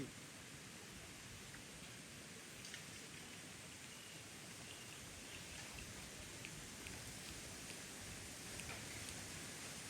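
Steady rain falls around a wooden house in a quiet forest, an even, soft hiss with faint scattered drop taps throughout and no voices.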